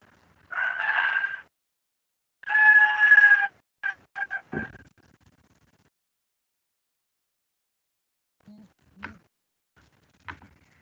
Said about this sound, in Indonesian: Oh, ayam jago punya tetangga saya itu, yang bunyi.